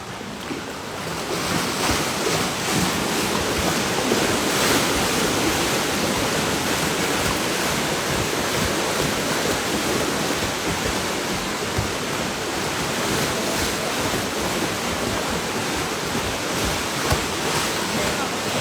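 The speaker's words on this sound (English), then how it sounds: "Have a look when they trot in the water" Horses trotting through water on a water treadmill make a steady, dense churning and splashing wash that runs unbroken and fairly loud throughout, with a faint voice now and then beneath it.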